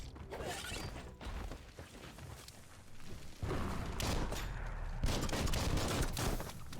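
Gunfire from shooting enemies in the Biomutant video game: repeated sharp shots and impacts mixed with crashes and game effects, fairly loud and continuous with a few heavier bursts.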